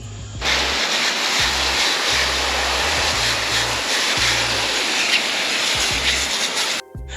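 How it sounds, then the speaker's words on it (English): Water sprays hard from a hose onto the base of a Jandy pool filter unit, a loud, steady rushing hiss close by that continues without a break and then cuts off briefly near the end. "Once you're done with the filters, you want to wash the base of the unit."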